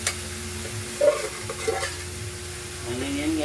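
Ginataang langka, jackfruit simmering in coconut milk, stirred in a pan with a spoon: soft scraping strokes and gentle sizzling at close range, a few louder clunks against the pan.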